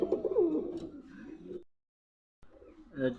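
A pigeon coos in low, rolling bursts over about a second and a half, then falls silent before another softer cooing phrase, close by with no talk.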